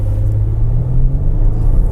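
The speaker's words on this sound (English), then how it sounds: "I'm going to put this car in S mode. And I'm just gonna pretty much floor it" A 2009 Lexus ES 350 (XV40) in S mode pulls at full throttle, a close, heavy low engine rumble with a steady droning tone and no talk.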